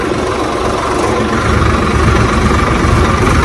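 A New Swaraj tractor pulls a loaded trolley, its engine a loud, steady, close diesel rumble with constant vibration and no break in the drone.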